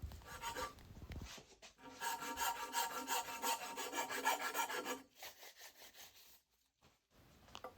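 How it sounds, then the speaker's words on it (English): Hand file rasping across welded Kawasaki Z1 cylinder barrels to flatten the top surface, quiet close strokes in rhythmic bursts with short pauses between them. "then proceeded to file very carefully the top surface flat, just removing the weld raised area."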